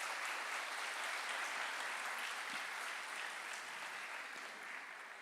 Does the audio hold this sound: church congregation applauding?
yes